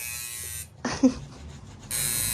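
An electric tattoo machine buzzes steadily at close range, stops briefly amid some faint handling noise, then starts buzzing again.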